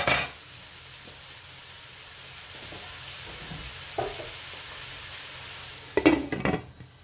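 Chopped onion fries in a little oil in a covered pot for lasagne, giving a steady soft sizzle with a few sharp clanks of a lid and utensils, the loudest near the end.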